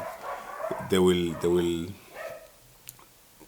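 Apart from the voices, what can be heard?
dogs next door barking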